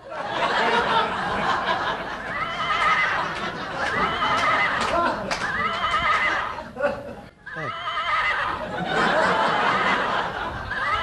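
A horse neighs and whinnies repeatedly, loud and close, in long shrill bursts with snickering breaths between them and a short pause near the end.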